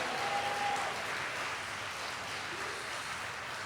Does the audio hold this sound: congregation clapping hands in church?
yes